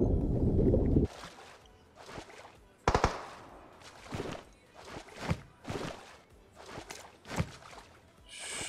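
Gunfire in the video game PUBG Mobile: a loud burst of rapid shots, then a series of separate sharp single cracks spaced about a second apart, with softer movement sounds between them.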